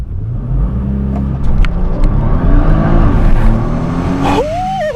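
A 2015 Nissan GT-R launches and accelerates hard, its engine a loud, steady drone that climbs in pitch through the gears, heard from inside the car with no talking.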